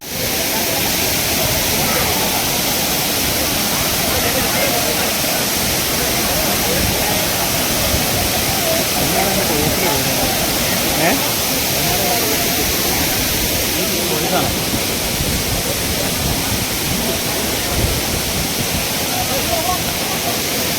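Aanachadikuth waterfall near Thodupuzha roars with a loud, dense, unbroken rush of falling water that fills the whole stretch, close and constant throughout.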